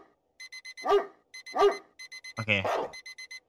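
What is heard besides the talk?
phone alarm ringing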